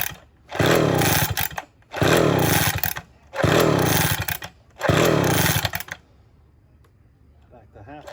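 A vintage Homelite 360 chainsaw engine fires and revs in four loud, close bursts, each cutting out after about a second, followed by quiet handling noises.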